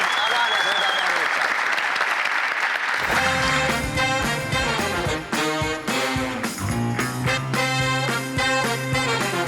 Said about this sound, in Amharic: አንድ ሞቅ ያለ ጭብጨባ ለተወዳዳሪዎች